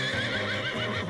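A horse on a ranch neighs loudly and close, a long wavering whinny that runs through the whole moment, with no talk over it.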